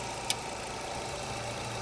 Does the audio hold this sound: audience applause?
no